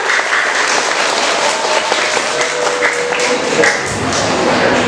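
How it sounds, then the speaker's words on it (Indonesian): Dense, steady applause from a school audience at a student council chair and vice-chair candidate debate, a continuous wash of many hands clapping, loud and close throughout with no talk over it. "beri tepuk tangan untuk menambah semangat dari kedua paslon"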